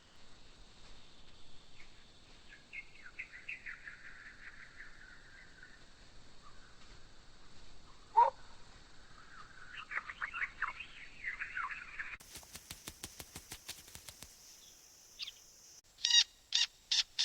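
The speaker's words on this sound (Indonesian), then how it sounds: "Cabai Jawa sering terlihat meloncat di dahan sambil mencari buah dan nektar" A Javan flowerpecker (Cabai Jawa) gives thin, high chirps and trills, faint at first and then in quick clustered bursts, with a steady insect-like hiss behind it.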